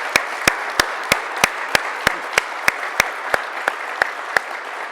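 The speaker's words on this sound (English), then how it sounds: "So let's give Allan a round of applause for being here." An audience applauds after a fireside chat, giving a steady sea of clapping with a sharp, even beat of synchronized claps running through it, and no talk over it.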